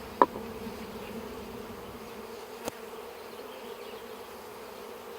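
Honey bees buzz around their hives during a varroa oxalic acid vapor treatment, a steady low hum throughout with a couple of brief clicks, no talking.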